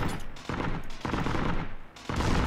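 Gunfire in the World War II shooter Heroes and Generals, with sustained automatic bursts in several loud stretches separated by brief gaps, close and dense, with no talk over it.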